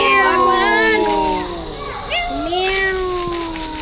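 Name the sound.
cat meowing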